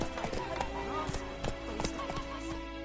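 Hooves of Roach, a horse in The Witcher 3: Wild Hunt, clip-clopping in a steady quick rhythm across the whole stretch, close and clear, with a voice and background game sound underneath.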